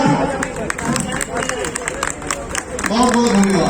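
A crowd claps for a small gift presented to a woman on behalf of a residents' welfare association, lively applause mixed with loud chatter and voices nearby.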